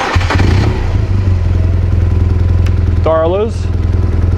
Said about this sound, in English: To test the bike on a BMW, you have to start it.